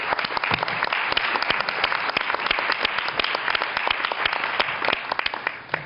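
Spontaneous applause from the audience at a United Nations panel on hate speech and incitement to genocide: a full, continuous wash of many clapping hands with sharp individual claps standing out throughout.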